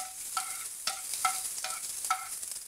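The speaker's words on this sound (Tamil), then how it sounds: "பொடியாக கட் பண்ணி வச்சுக்கிற பூண்டு போட்டு ஒரு 2 நிமிஷம் நல்லா கலரி விடுங்க" Chopped garlic frying in a pan for a Tamil idli dish, stirred in a steady rhythm: repeated sharp scraping strokes about every half second over a soft continuous sizzle, close and clear.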